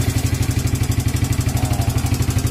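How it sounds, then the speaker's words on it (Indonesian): A Proton Evo Z car engine idles steadily after starting, with a fast, even low throb and some mechanical clatter. It is close and moderately loud, with no talking. "enjin pun sudah hidup dengan sempurna."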